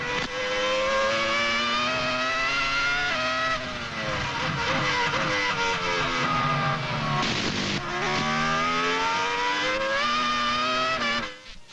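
Formula 1 cars of the 2000 season racing at Hockenheim during the German Grand Prix, engines screaming at high revs with rising and falling pitch as they pass, continuous and loud throughout.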